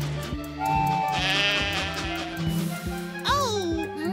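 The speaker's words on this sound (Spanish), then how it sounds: "¡Muchos borregos!" Many cartoon sheep bleat together in an animated children's show, their cries rising over a busy backdrop of music and sound effects, with a voice speaking briefly among them.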